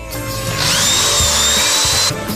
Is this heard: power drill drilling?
yes